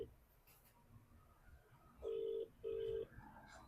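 An outgoing phone call goes unanswered, with two clear, evenly spaced ringback tones heard faintly in a quiet room.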